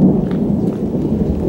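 Deep rolling thunder from a thunderstorm at the start of the rainy season, a low sustained rumble with light rain in the background, no one speaking.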